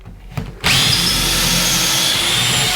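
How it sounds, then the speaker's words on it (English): A power drill bores into a wooden wall stud, a steady loud whine starting abruptly after a short quiet lead-in and running continuously to the end. "I go about halfway through because this drill bit's not threaded all the way through."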